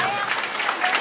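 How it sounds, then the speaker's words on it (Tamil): Audience applause fills a hall at a Janmashtami celebration, a brief, dense, steady burst of clapping from many hands at close range. "பரிசோதனை கரகோஷங்களை எழுப்பி உற்சாகப்படுத்துங்கள்."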